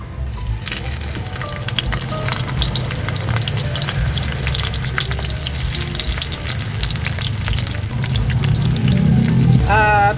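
Smoked fish fries in oil in a pan used earlier for eggplant, with a loud, dense, continuous sizzle and crackle that stays close for the whole stretch.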